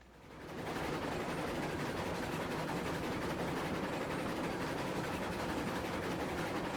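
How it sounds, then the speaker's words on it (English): A passenger train rolling by in the railway game Railroads Online, a steady loud rumble and rattle of wheels on track that swells in within the first second and holds evenly throughout, with no talk. "here comes the passenger train"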